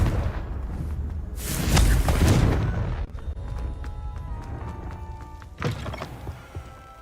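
Confringo blasting spell cast in Hogwarts Legacy: a heavy whooshing boom swells and rumbles for a couple of seconds, then fades into softer ringing game sounds, and a second short impact lands near the end.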